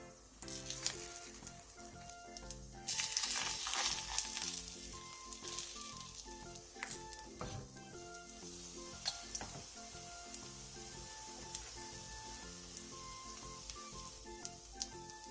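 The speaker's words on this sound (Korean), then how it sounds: "팬에 기름을 두르고 버섯을 올려 약불에서 부쳐주세요." Mushrooms fry in oil in a pan over low heat, a steady close sizzle with crackles and pops, briefly louder for a moment early on, with faint background music.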